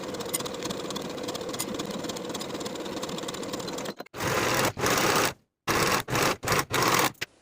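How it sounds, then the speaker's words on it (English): A sewing machine stitches a seam on a sweatshirt with a fast, steady mechanical whir, then runs in several short bursts separated by brief silences. "Sew this seam with a 3/8 inch seam allowance"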